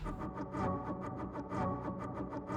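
An Analog Lab synth preset plays a quick rhythmic pattern of repeated plucky notes, moderately quiet and steady throughout, with no talking.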